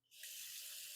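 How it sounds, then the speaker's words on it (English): Water pours steadily into a cooking pan for a small amount of about a quarter cup, starting abruptly and running as a continuous close splashing stream for the rest of the moment. "I need to add just a smidge of water"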